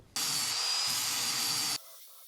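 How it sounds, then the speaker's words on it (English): A grinder shaves down a thick metal short shifter bracket for a Nissan 350Z or Infiniti G35, giving one steady, loud, close hissing whine that lasts just under two seconds before cutting off abruptly. "Nothing my trusty grinder can't fix."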